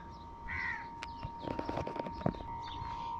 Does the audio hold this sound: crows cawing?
yes